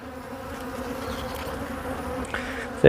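Dense, steady buzzing of many honeybees close by at a hive, a continuous droning swarm with a brief knock at the very end.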